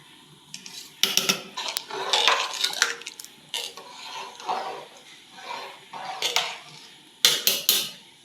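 A spoon scrapes and clinks against a metal pot as soaked biryani rice is stirred in for a prawn biryani, with irregular nearby clatter and soft wet stirring between the knocks.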